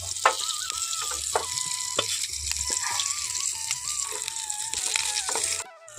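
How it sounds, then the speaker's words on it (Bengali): Continuous sizzle of food frying in hot oil, close up, with scattered clinks and a faint tonal whine running through. "বাদবাকিগুলো আমি একইভাবে ভেজে নেব"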